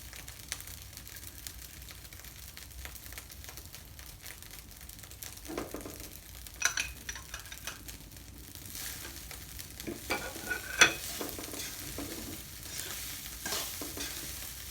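Rice stir-fried with canned fish in a pan, quiet scraping and stirring with soft sizzling, a few sharper clanks of the utensil against the pan, no talking.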